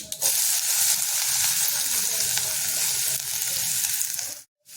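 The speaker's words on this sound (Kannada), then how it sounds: "ಸಣ್ಣಗೆ ಹೆಚ್ಕೊಂಡಿರೋ ಹಾಗಲಕಾಯಿನ ಹಾಕ್ಕೊಳ್ತಾ ಇದ್ದೀನಿ ಚಿಟ್ಟ ಚಿಟ್ಟ ಅನ್ನಲಿ" Finely chopped bitter gourd goes into hot oil with mustard seeds, giving a loud, dense, steady sizzle with crackling pops throughout, close up, before it cuts off sharply near the end.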